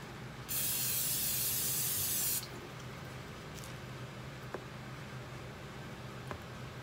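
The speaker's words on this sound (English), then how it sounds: "This is actually my first time using cooking spray to make the French toast" A can of cooking spray gives one continuous, loud close hiss lasting about two seconds while making French toast, followed by faint kitchen clicks in a quiet room.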